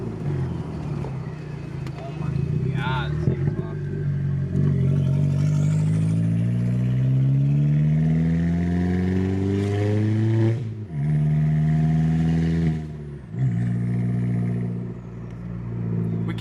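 A Volkswagen Passat B5 with the 1.8T turbo engine revs loudly and close up, pitch climbing and dropping through several throttle blips with turbo spool whistling over the exhaust drone; people talk briefly during it.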